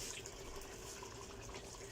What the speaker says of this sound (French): parce que je vais rajouter de l'eau.